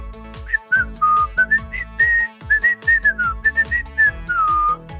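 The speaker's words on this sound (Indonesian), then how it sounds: "kalian dengar itu bunyi siulanku." A person whistles a bright, lively tune of short, separate phrases, some notes sliding up or down, loud and close with no talking.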